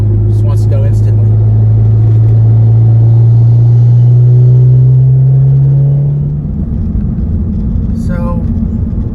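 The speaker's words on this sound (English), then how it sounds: "as soon as I go wide open throttle, the car just wants to go instantly" A Ford Focus ST fitted with AWR race motor mounts accelerates at wide open throttle, its engine note rising steadily in pitch as it pulls hard, loud and close, then dropping back toward a lower rumble near the end.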